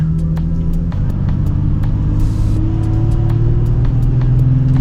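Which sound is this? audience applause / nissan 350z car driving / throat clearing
nissan 350z car driving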